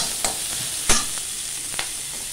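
Onions and okra sauté in a hot pan for a stir-fried okra dish, giving a loud, even sizzle with a few quick scraping stir strokes that land at irregular intervals. No voices.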